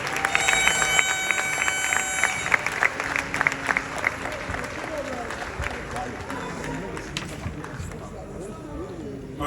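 A church congregation claps hands during a prayer service for the first family, with dense, steady applause throughout, a voice speaking over it, and the clapping thinning slightly toward the end.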